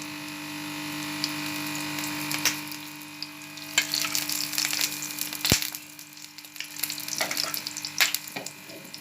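Bajra (millet) roti cooking in desi ghee on a pan, giving a steady low sizzle with scattered soft pops and crackles and one sharp tap partway through, with no talking.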